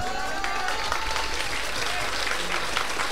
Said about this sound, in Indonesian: hanya bapak-bapaknya yang tepuk tangan.